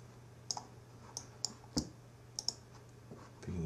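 Computer mouse clicks while applying stair treads in 3D design software, a series of quiet, sharp, separate clicks at irregular intervals over a faint steady hum.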